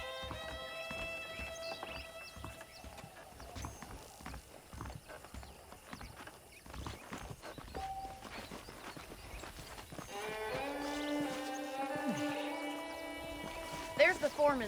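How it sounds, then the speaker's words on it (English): Horse hooves clip-clop steadily in Red Dead Redemption on PS4, a regular trotting beat under looping game music and ambience. "The horses are saddled up over here."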